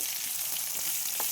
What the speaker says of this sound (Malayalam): ചേർത്ത് നല്ലവണ്ണം ഇങ്ങനെ ഇളക്കി കൊടുക്കാം.